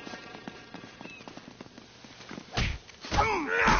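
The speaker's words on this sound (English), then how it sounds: "They're shooting at you too" Gunfire in the action-adventure video game Uncharted: Drake's Fortune, a few loud sharp bursts arriving late in the stretch after quieter background game sounds.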